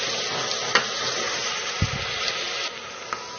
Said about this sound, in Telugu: కట్ చేసుకున్న ఉల్లిపాయ పచ్చిమిర్చి ముక్కలు వేసుకోవాలి వీటిని బంగారు రంగు వచ్చేంత వరకు వేయించుకోవాలి